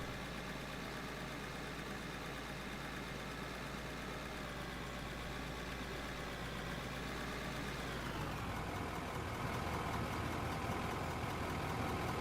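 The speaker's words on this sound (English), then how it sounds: "We'll say the idle sounds really good." An in-game vehicle engine idles in the mining game Out of Ore, giving a quiet, steady mechanical hum with no talk. Its tone shifts slightly about two-thirds of the way through.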